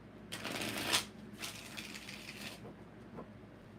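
Tarot cards shuffled in riffling bursts, two clear rounds of crisp papery flutter with a soft tap near the end, close up and alone with no talk.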